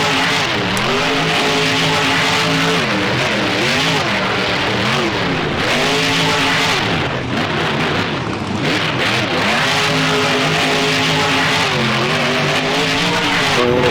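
A Black Panther monster truck on a CRC chassis in the BeamNG driving simulator, its engine revving loudly and continuously with rising and falling pitch as it accelerates and slides, tires scrubbing underneath.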